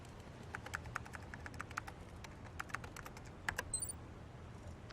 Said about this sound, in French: Allez, tape ton clavier.